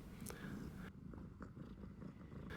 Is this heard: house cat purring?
yes